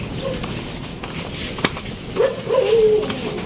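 A dog gives a couple of short whimpering, yelping calls near the end, over steady outdoor background noise with a sharp knock in the middle.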